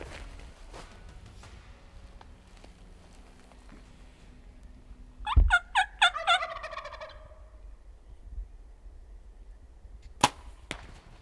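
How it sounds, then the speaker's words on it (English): A wild turkey gobbles loudly in a brief burst outdoors during a bowhunt, amid quiet ambience with small rustles, then a sharp snap later as an arrow is shot from a drawn bow. "this bird stayed there and watched him while he drew his bow and took the shot"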